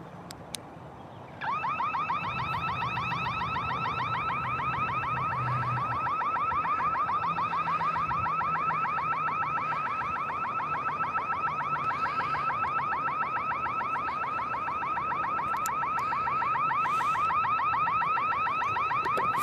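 A car alarm sounds on a police call, a steady piercing electronic wail that starts abruptly after a short quiet moment and keeps cycling loudly and continuously without pause.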